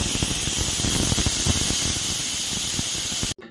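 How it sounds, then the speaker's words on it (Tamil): A pressure cooker hisses and squeals with steady venting steam while cooking mutton curry, a loud continuous whistle that cuts off abruptly near the end. "மூணு விசில் வந்துடுச்சுங்க."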